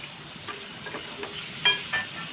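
Paneer frying in oil in a pan for matar paneer, a quiet sizzle broken by a few soft stirring scrapes, the last two slightly louder, brief and close, with no talking.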